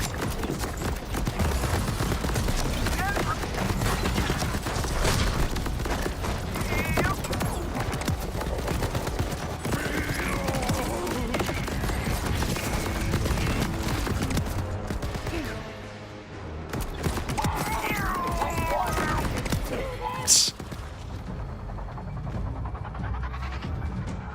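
Gunfire from the Targeted barrage skill in the video game Borderlands 4, a dense, continuous loud barrage of shots layered over game music and effects, with a sharp burst standing out near the end.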